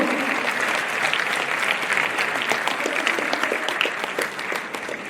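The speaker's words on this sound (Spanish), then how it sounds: "pero primero le vamos a dar un fuerte aplauso a Franco Ricci." Audience applause greets a young guest welcomed at a talk on automation and workflows, a steady dense clapping that fills the room and holds evenly throughout.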